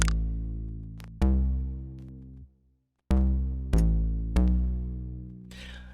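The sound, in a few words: analog type bass synth sound from Omnisphere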